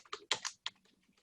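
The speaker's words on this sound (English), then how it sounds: "I'm going to type it here" Keys on a computer keyboard clack in a short burst of a few quick, crisp strokes, close and clear with brief gaps between them.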